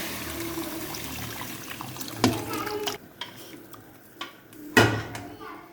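Leftover yakhni stock poured into a pot of beef paye, a running liquid pour and splash under a steady kitchen bed, punctuated by a couple of sharp pot knocks.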